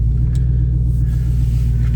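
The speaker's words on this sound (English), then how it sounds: "I can hear my kid down the road in that Mustang." A Mustang's exhaust rumbles along the road in a deep, steady, continuous low drone that holds level throughout, with no voices.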